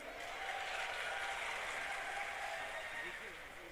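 Audience at a farmers' rally in Madhya Pradesh clapping, a dense steady burst of applause from a large outdoor crowd that fades slightly toward the end, with no speech over it.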